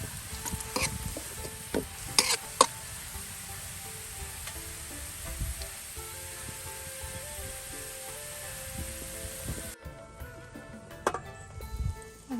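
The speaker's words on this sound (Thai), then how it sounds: "เจียวกระเทียมไม่ไหม้หอมๆเหลืองๆใส่กระเพราเปียก" Garlic frying in a pan sizzles steadily, with occasional clinks and scrapes of stirring over about twelve seconds and no talk.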